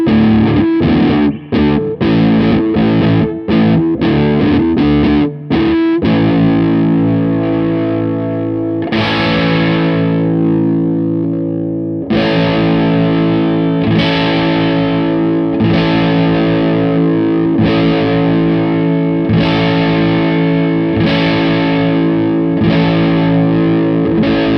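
Distorted electric guitar, a Squier Affinity Jazzmaster with the tone knob all the way off, giving a dark, muffled tone, opening with choppy stabbed chords and then ringing out in sustained riffs, loud and close.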